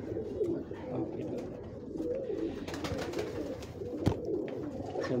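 Pigeons coo repeatedly on a Lahore rooftop beside a breeding setup, soft throaty calls overlapping close by over a low murmur of background noise.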